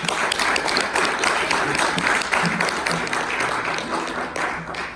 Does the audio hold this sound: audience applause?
yes